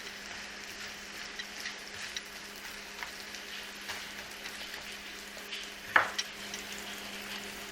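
Apple pieces cook in a pan, giving a faint, steady low sizzle with soft stirring scrapes and one sharp utensil clink near the end.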